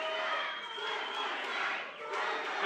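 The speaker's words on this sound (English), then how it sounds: "The crowd calling for one more." An arena crowd at an independent wrestling show roars and chants for one more strike, a broad swelling mass of voices that dips briefly and rises again.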